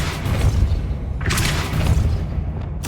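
A Depulso force spell cast in Hogwarts Legacy lands as a deep rumbling boom under a dense, sustained low-end roar, with a brighter burst of blast noise partway through.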